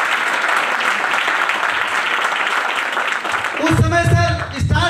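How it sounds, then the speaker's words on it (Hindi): Loud audience applause at an event in India: dense, sustained clapping fills the room, then a voice comes in over the fading claps near the end. "एक बार जोरदार ताली है सर के लिए।"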